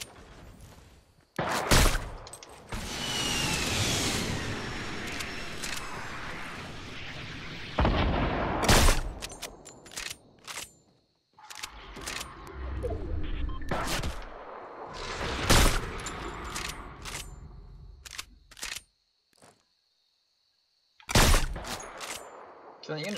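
Bursts of gunfire in the video game Fortnite, with repeated sharp shots and rattling volleys across a long stretch, some loud and close, broken by short quiet gaps, with occasional talk mixed in.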